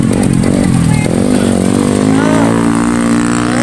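A motorbike engine buzzes steadily at Karangjaya beach, loud and close with a wavering pitch, while voices are heard over it.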